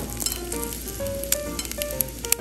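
Yaki onigiri, grilled rice balls seasoned with Horinishi spice, crisping on a hot surface at a campsite, with a close steady sizzle punctuated by sharp pops and crackles.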